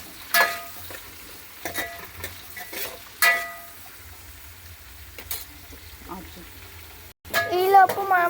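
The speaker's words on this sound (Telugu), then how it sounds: "పచ్చిమిర్చి ఉల్లిగడ్డ వేసింది. కళ్యామాకు వేసింది. ఇప్పుడు మంచిగా కలుపుతుంది." Green chillies, onion and curry leaves sizzle in a frying pan while being stirred, with soft scraping strokes at intervals over a steady hiss, and a voice speaks briefly near the end.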